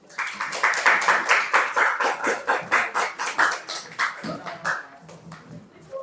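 High school students in a biology class clap in a regular rhythmic pattern, a quick series of distinct, evenly spaced claps that thin out toward the end, with faint voices underneath.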